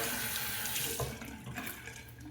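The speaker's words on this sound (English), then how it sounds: "I basically just stuck the entire brush under the faucet" Water running from a faucet into a sink over a shaving brush, a steady splashing stream that changes slightly as the brush moves under it, quiet and close, with no talking.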